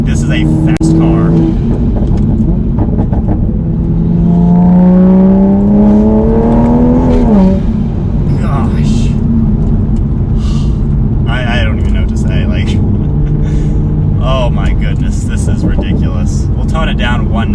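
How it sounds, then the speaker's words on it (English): Tuned Toyota A90 Supra making 450 wheel horsepower, revving hard through gears with a rising whine and shift, then settling into a cruising drone, heard loud inside the cabin under excited speech throughout. "The power is unreal. Like, this is a fast car."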